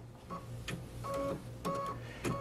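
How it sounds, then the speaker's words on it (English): A Baby Lock Solaris Vision sewing machine fires its automatic thread-cutting scissor function during edge-to-edge quilting, producing a few short mechanical clicks and whirring motor bursts that come close together, near and clear against a quiet room hum. "I'm going to hit the scissor function on my machine to cut the thread"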